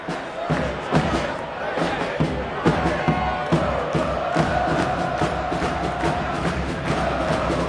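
A large stadium crowd of over 17,000 at a US men's national team soccer match against Ecuador in Orlando murmurs and roars steadily throughout, a dense continuous wash with scattered shouts and thumps.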